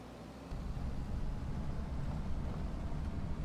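Steady low drone of a 400 horsepower tractor engine in Farming Simulator 25, the roar swelling after a brief quieter start and holding constant, broadband and loud, no talking.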